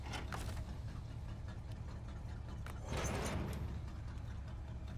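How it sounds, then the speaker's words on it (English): A truck engine idles in the video game SnowRunner with a steady low rumble that holds throughout, swelling slightly near the end, with no voices over it. "And shut the engine off."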